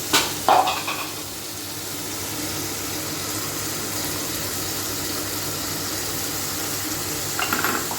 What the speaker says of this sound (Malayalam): ഇതിലേക്ക് നമ്മൾ അരച്ച് വെച്ചേക്കണ അരപ്പ് ചേർത്ത് കൊടുക്കാം